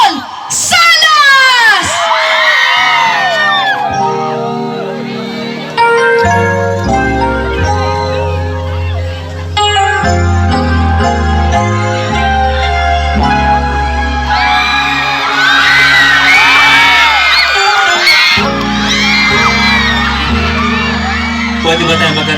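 A large crowd shouts, whoops and cheers loudly to welcome a performer at a live event, with children's high squeals rising in waves over a continuous roar and an announcer's voice calling out over it.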